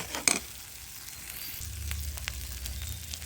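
Onion, garlic and ginger paste frying in a pan, a quiet steady sizzle with a sharp clatter near the start and soft stirring scrapes throughout, no voices.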